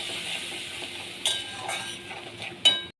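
Ground turmeric and chili with a little water frying in a pan and being stirred, a soft sizzle broken by a couple of sharp spoon scrapes and clinks near the end.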